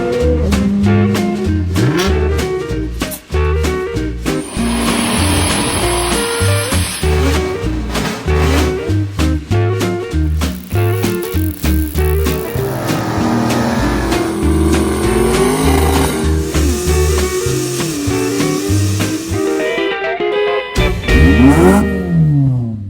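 A small mini bike engine salvaged after sitting neglected sputters to life and revs repeatedly, loud and close, with rising and falling bursts of throttle and a rattly, uneven idle between pulls.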